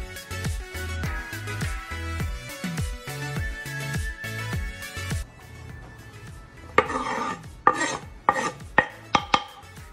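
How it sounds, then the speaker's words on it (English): A knife chops scallions on a cutting board in a home kitchen, first in a steady run of quick, even thuds, then a pause and a few sharper, scattered cuts. "now we're gonna cut up all these scallions and throw them in there"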